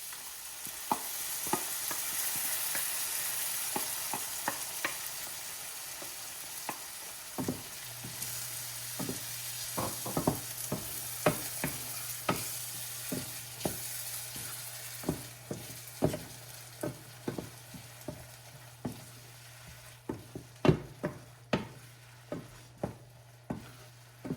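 A spinach, garlic and chilli gravy sizzles in a pan while a spoon stirs it, scraping and clinking in an irregular rhythm over a low steady hum that joins partway through, close and moderately loud, with no talking.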